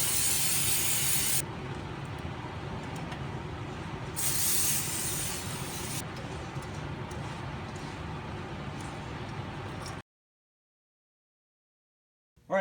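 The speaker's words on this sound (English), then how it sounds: "you can actually use some brake clean and a rag and clean all that up" Brake cleaner sprays in loud hissing bursts onto engine parts near the throttle body of a Nissan 350Z/G35. There are two strong blasts within a continuous hiss, and then it goes silent.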